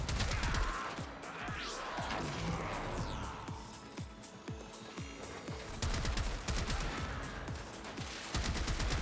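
The Trumna gun in Warframe fires in rapid, dense volleys, sharp repeated shots blending into a continuous loud barrage with crashing impacts throughout.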